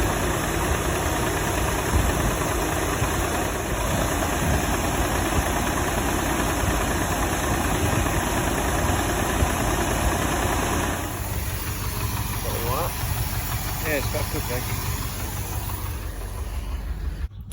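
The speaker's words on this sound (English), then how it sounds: "Obviously fired up, idled really nice." A repaired Ford Thunderbird engine with Holley tuning idles steadily and evenly at close range, its low continuous hum and faint mechanical ticking going on without a break and no voices over it.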